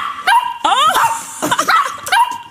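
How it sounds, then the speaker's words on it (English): A recorded dog barks in several sharp, loud bursts with yips and whimpering tones between them, close and prominent, played on a radio breakfast show. "he's made the dog bark"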